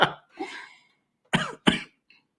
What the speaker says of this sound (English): A little cough, man.